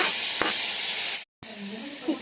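Tomatoes go into onions frying in a pan for a village-style Malenadu onion sambar, giving a loud, steady broadband sizzle and hiss that breaks off briefly, then resumes under faint voice.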